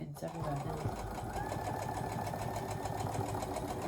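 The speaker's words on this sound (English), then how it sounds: "Now you can sew over your pins if you want to. Don't sew too fast is the clue. So just sew down there." A sewing machine stitches quilt block fabric for a Variable Star block, a steady rapid whirring run of needle strokes at moderate speed with a close mechanical hum, sewing over pins.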